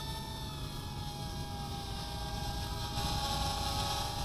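An Eachine Flyingfrog Q90 micro FPV drone flies, its tiny propellers giving a continuous high whine with layered tonal buzzing that grows slightly louder toward the end.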